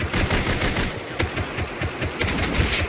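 Sustained, rapid machine-gun fire in the video game Rust rattles loud and close for several seconds, a dense run of overlapping shots with no talk heard over it.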